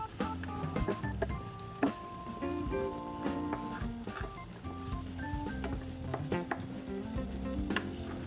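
Tofu frying in a pan, with a close, steady sizzle mixed with stirring clatter and scraping throughout, plus faint tonal background music underneath.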